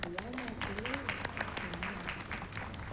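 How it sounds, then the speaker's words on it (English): Applause and scattered hand clapping from a live audience at a speedrun charity event, steady and moderately loud while someone talks over it. "Thank you for the claps."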